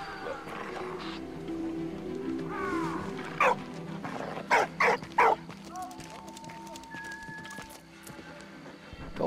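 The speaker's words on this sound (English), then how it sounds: "Oh, that dog's pissed." In Valiant Hearts, the World War One video game, an angry dog barks in several sharp bursts over rumbling game sounds and ambience, with a few tonal effects afterward.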